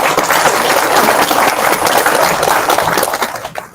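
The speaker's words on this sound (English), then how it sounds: "one more round of applause" Loud, dense audience clapping at a Mother's Day community celebration honoring a community champion, sustained and close before tapering off at the end.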